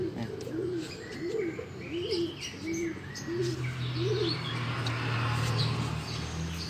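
A perkutut, or zebra dove, gives a run of about six soft, evenly spaced rolling coos close by, followed by a steady hum of background noise and faint chirps.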